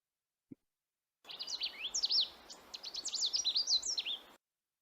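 A male Canada warbler's song: a quick, tumbling jumble of high, sweet notes delivered in one unbroken three-second run, close and clear, after a single faint click.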